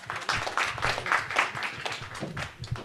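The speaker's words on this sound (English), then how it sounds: "Please, everyone, put a round of applause for Mr. Ellen M. Cass." A seminar audience claps for an immigration and tax attorney being introduced on stage, a fairly light, uneven patter of hands at moderate distance that swells and thins over a few seconds.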